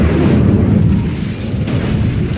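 In Hogwarts Legacy, the Incendio fire spell erupts in a loud, sustained, booming roar of flame that fills the whole moment without pause.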